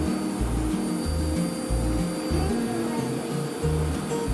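A household vacuum cleaner running close by, a steady loud motor drone with rhythmic low pulsing as it is pushed back and forth, continuous throughout.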